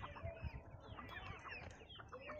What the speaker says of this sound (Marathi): आता मी कोंबड्या सोडल्या आहेत.